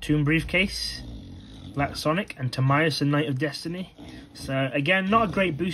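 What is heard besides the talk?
No distinct noise like a dog, phone or traffic.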